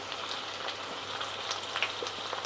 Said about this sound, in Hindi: मसाले को तब तक भूनेंगे जब तक टमाटर पूरी तरीके से सॉफ्ट ना हो जाए